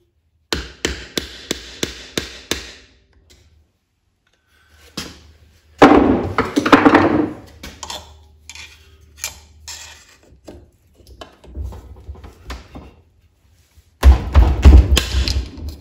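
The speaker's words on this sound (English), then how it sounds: "get out our trusty old Craftsman screwdriver and get this guy out of here" A trusty old Craftsman screwdriver taps and pries at a part during a transmission refresh, giving a quick run of sharp metallic clicks, then scraping and thuds with handling noise, ending in a louder clatter.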